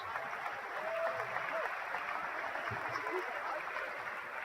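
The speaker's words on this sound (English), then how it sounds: "Fred Othiombo gets a nice round of applause as he checks out." Fairly faint, steady crowd applause fills a college men's basketball gym as a player checks out of the game, lasting for a few seconds.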